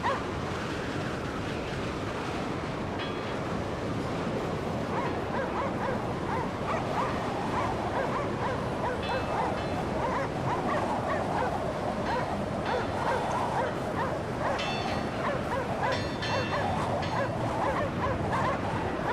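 Dogs in the video game Cryostasis bark, yip and whimper agitatedly over a constant roar of strong wind, the calls fairly close and recurring throughout.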